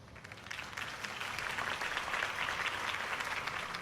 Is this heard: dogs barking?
no